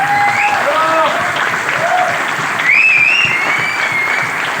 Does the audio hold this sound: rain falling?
no